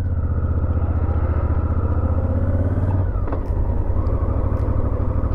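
A Honda XL 1000 Varadero motorcycle rides along with a loud, steady engine drone close to the microphone, its pitch and load shifting slightly about midway as the bike continues down the road.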